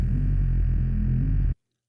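A buzzing Serum 2 synth bass, anti-stasis wavetable layered with a bottle blow sound, drones loud and low with a reedy, vocal-like buzz, sustaining about a second and a half before stopping sharply.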